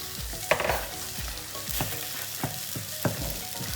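Drained pasta tossed with vegetables in a hot pan, rhythmic scraping and stirring strokes over a steady sizzle, close and clear with no talking.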